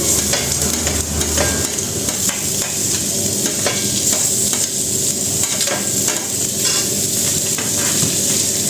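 Wilted greens and onion fry in a pan, a loud, dense, continuous sizzle up close with steady stirring scrapes running throughout.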